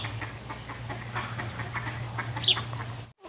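Ducks and other birds call in a New Zealand park that also keeps pigs, with scattered chirps and clucks over a steady low hum and no one speaking.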